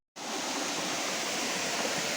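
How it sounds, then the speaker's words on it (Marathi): Water from a waterfall pours steadily off a cliff in a Konkan jungle, a dense, unbroken roar of falling water close by, with no voices. "समोरच मित्रांनो कडा आहे आणि मस्तपैकी पाणी वगैरे पडतंय"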